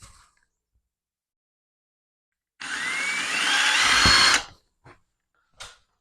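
A power drill whirs for about two seconds, its pitch climbing as it drives a screw into a wall stud for a bike rack, then stops, followed by a couple of short clicks.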